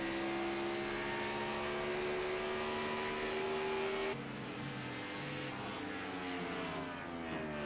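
Race cars lap the Charlotte Roval road course in a SCAR event. A steady high engine note holds near, then a second car passes and the sound drops into a rougher, layered roar of several engines.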